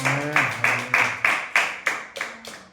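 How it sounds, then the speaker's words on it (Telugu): A church congregation claps hands loudly at a December 22, 2025 service, about nine sharp, evenly spaced claps in a steady rhythm, close and strong, with a voice briefly heard at the start. "కొట్టాలి చప్పట్లు గట్టిగా"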